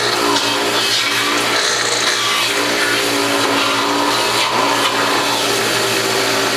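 A Norwalk premium juicer grinds the last carrots with a loud, steady motor whine and dense grinding roar, continuous and close throughout with no pauses.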